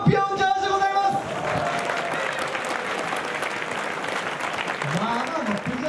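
Steady applause from a crowd at the award ceremony of a team four-hour endurance mamachari (shopping bicycle) race at a Mazda test course in Mine, with a voice briefly audible at the start and crowd murmur throughout.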